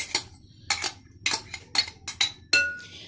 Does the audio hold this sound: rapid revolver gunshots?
no